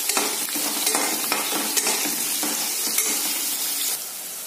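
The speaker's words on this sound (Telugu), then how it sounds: "ఇవి కొంచెం గోల్డెన్ బ్రౌన్ వచ్చే వరకు వేపాలి" Onions and green chillies frying in a pan until golden brown give a steady, loud sizzle, with spoon scrapes stirring through the crackle at irregular intervals and no voices.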